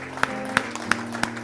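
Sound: congregation clapping hands in worship

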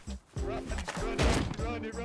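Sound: gunfire from guns in a video game

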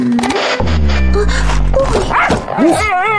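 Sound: dog barking in the video game Tohu

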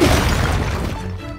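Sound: bomb explosion in video game Zelda: Tears of the Kingdom

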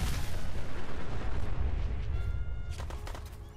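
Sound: fragmentation grenade explosion in the video game Fallout 4

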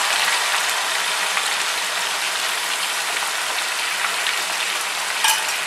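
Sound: onion, garlic and ginger paste frying while stirred

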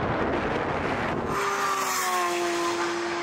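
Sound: Lamborghini Aventador SVJ and McLaren 600LT racing, wheelspin

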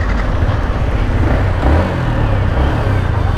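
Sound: Yamaha MT-15 V2 motorcycle engine pulling away

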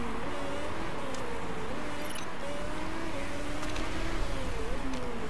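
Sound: race car accelerating in video game Motorsport Manager

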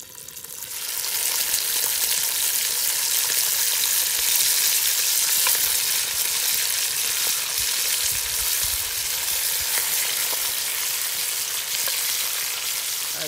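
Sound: kudu meat browning in a potjie over a wood fire

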